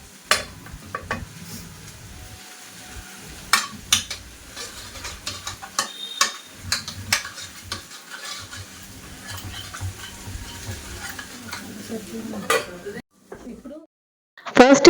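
Okra fries in a steel pan with a low, patchy sizzle, punctuated by sharp scrapes and clicks of stirring and handling at irregular intervals, fading near the end before a few louder knocks; no clear talking.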